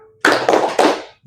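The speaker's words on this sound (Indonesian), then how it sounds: "Coba kita tepuk semangat dulu." A classroom of pupils performs a rhythmic clapping chant, three sharp group claps in quick succession that ring close and loud, then stop.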